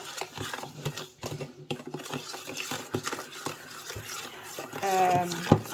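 Macaron batter being mixed in a bowl, soft scraping and thudding strokes in an uneven rhythm, close by, with a brief higher clink near the end.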